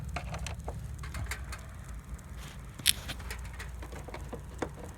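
Nuts are unscrewed from a Samsung inverter air conditioner during cleaning, with small clicking ratchet-like ticks and light metallic taps over a low steady hum, close but faint, with one sharper click midway.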